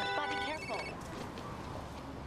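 A phone rings with an incoming call on a New York street in Chinatown, the electronic ringtone trilling for about a second over city background noise and brief talk.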